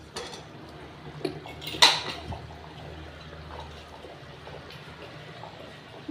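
A metal lid clanks onto a pressure cooker holding mutton, potatoes and water in one sharp, close impact, surrounded by faint clinks and soft liquid sloshing in a quiet kitchen.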